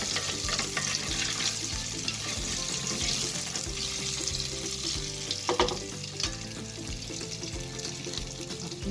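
Meat sizzles steadily in a hot frying pan for kibby, a continuous close crackle with faint utensil movement and clinks, no talking.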